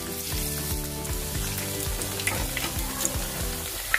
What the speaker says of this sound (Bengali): এবার সবকটা ভেজে দেখাচ্ছি।